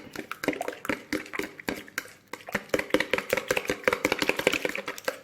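Apple tart batter mixed in a bowl, rapid repeated utensil taps and scrapes in a quick irregular rhythm, close and clear with no talking.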